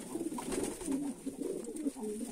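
A domestic pigeon brooding on its first eggs coos in a steady, rolling series of soft, low murmurs, close by and fairly quiet, with no other sounds over it.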